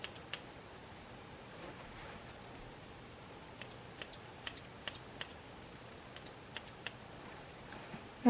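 Scissors snipping a boy's hair during a basic home haircut, a sparse series of short, quiet clicks spaced irregularly over a low background hiss, with no talking.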